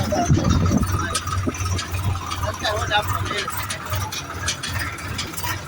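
A newly bought tractor engine hums at a low, steady idle near a farm field while people talk loudly over it.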